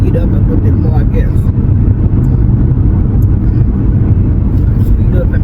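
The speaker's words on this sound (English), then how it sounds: "I'll speed up and pass this truck" A car accelerates on a road to pass a truck, its loud, steady engine and road roar filling the interior without letup.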